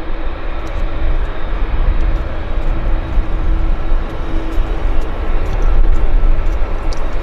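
Air Canada Dreamliner jet on its takeoff roll at Vancouver airport, a loud, continuous deep engine roar with rushing noise filling the whole stretch, close and sustained, no voices.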